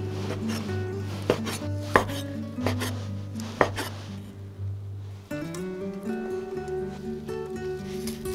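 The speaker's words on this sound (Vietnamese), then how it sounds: "bây giờ thì mình cắt sợi dày như thế này ha" A knife chops soaked shiitake mushrooms into thick strips on a cutting board, giving a few distinct knocks over a steady low hum and faint kitchen clatter, with no talking.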